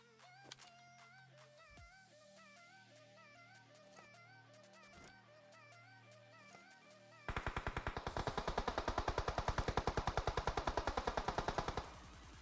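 PUBG Mobile gunfire: a long automatic burst of rapid, evenly spaced shots erupts loud and near halfway through, after a stretch of quieter game music and ambience.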